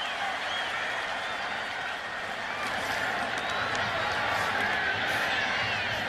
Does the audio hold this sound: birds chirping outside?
no